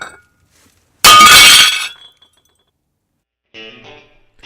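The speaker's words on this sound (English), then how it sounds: "I'm just a little bit excited to have that brass glass enclosure come down out of the bathroom" A brass-framed glass shower enclosure shatters during a bathroom demolition in one loud, close crash that breaks up over about a second, followed by a few faint tinkling bits and scraping.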